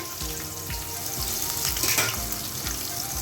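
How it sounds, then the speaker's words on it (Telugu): Onions sizzling steadily in hot oil in a pan for a home-style prawn curry, with a continuous close crackle and periodic low thumps and scrapes as the slices are stirred. "దీన్ని ఎర్రగా ఫ్రై చేద్దాం ఉల్లిపాయల్ని"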